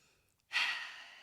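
A single deep breath during a yoga stretch, a soft airy exhale that swells suddenly and trails off, close and quiet, heard alone.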